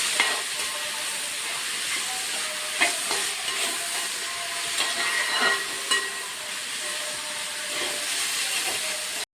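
Crushed ginger and garlic stirred in a hot pan for chicken curry, a steady bright hissing sizzle broken by repeated scraping strokes of a spoon across the pan, close and with no voices.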